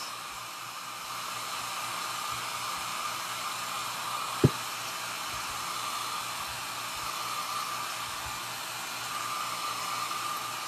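Hair dryer blowing steadily on a transfer, a constant loud rushing hiss held close for the whole stretch, broken only by one brief click or knock partway through.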